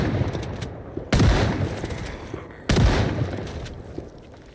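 Two loud gunshots from a firearm in a multiplayer survival video game, spaced about a second and a half apart, each a sharp broadband blast with a decaying tail over a steady ambient background.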